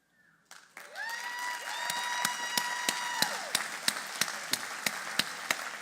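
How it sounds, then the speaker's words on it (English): Staff clap and cheer in a steady burst of applause, with whistles and sustained tones ringing over the crowd and sharp regular claps continuing to the end. "I don't know if that's the staff cheering over here for themselves"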